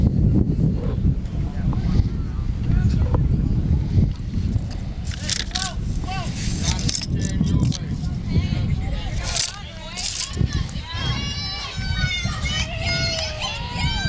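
Wind gusts rumble and buffet across a microphone at a varsity high school softball game, a steady low roar throughout, with children's voices and crowd chatter in the background.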